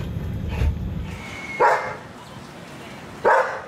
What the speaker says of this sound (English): our dogs were up early, and although the barking had improved